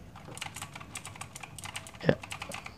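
Rapid keystrokes clatter on a mechanical keyboard with blue or brown switches, a steady run of fairly quiet, close clicks with one louder knock near the end.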